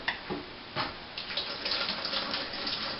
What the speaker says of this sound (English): Let me rinse my hands for a second.